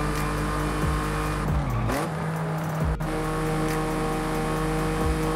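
Land Rover Velar in the racing game Forza Horizon 5 accelerates hard, its engine note climbing through several gear shifts with brief tire squeal, loud and continuous with no talk.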